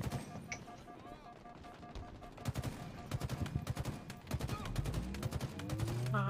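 Rapid bursts of automatic gunfire rattle through a Halo multiplayer team match, dense and overlapping with several volleys close by, while players talk over the shooting.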